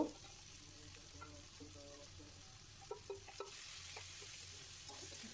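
Onion, chili and tomato frying in a wok of hot oil give a quiet, steady sizzle, with a few light scrapes and stirring knocks breaking through at intervals.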